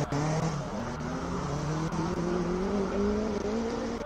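A Honda VTEC Type R racing car climbs the Simola hillclimb, its engine note rising steadily in pitch as it accelerates, loud and continuous with faint tire noise and no speech.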